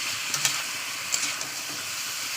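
Ginger-garlic paste and meat sizzle steadily in hot oil, a close, even hiss with a few soft scrapes of a spoon as the mixture is stirred.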